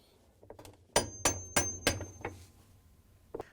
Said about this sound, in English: we can take the wrench and a hammer and tap it down.